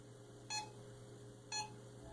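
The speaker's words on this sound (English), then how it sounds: "Make it beep 2 times." Two short electronic beeps about a second apart, clear over a faint steady hum.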